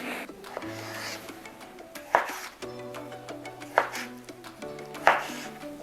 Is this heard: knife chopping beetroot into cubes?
yes